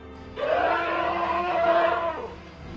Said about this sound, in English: it got angry, let out a loud, low scream